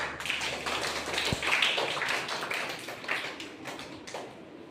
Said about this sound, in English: everyone again clap for him.